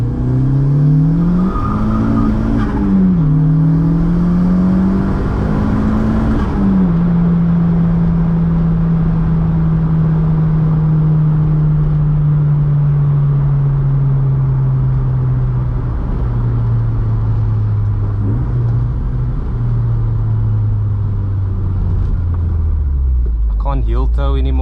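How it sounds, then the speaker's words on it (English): A VW Mk2 with a BT 1.8T engine pulls hard in second gear, its engine note climbing steadily and loudly near the mic, the revs rising over about twenty seconds, with a brief burst of turbo whoosh early on and talk mixed in. "I'll do a second gear pull, just go over."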